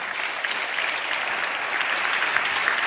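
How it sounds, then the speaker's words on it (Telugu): A church congregation claps together in praise: dense, continuous applause that holds steady and fairly close throughout, with no talking over it. "చప్పట్లు కొడుతూ స్తోత్రాలు చెప్తాం"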